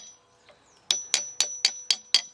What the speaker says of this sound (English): Working to the middle, taking little bits off at each time, Nice sharp chisel.